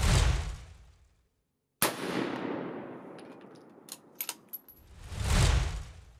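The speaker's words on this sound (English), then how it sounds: "Then I added the six M-lock weights and took the third shot." A single close, loud rifle shot with six M-lock weights fitted, a sudden blast after a moment of silence followed by a long rumbling decay, a few small metallic clinks and rising wind or handling noise.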